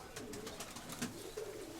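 Pigeons coo softly in low, repeated murmurs, faint and close, under a steady rustling background hiss.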